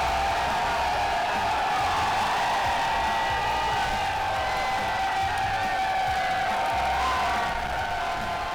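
Fans crowd together at a Kansas City Chiefs stadium fan event, and their cheering and chatter form a dense, sustained roar that holds steady throughout.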